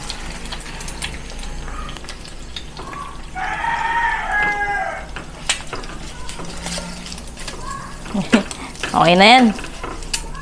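An egg fries in a pan and gets flipped, a steady soft sizzle under someone speaking Filipino, with scraping and a brief clatter near the end as it turns.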